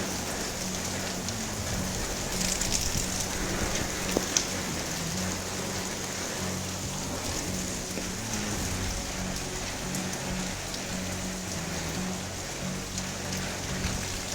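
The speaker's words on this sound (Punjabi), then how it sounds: "ਪਹਿਲਾ ਮੀਂਹ ਪੈ ਰਿਹਾ" Steady first rain of the season falls continuously in Punjab, a dense even hiss of drops on surfaces, with a faint low hum underneath.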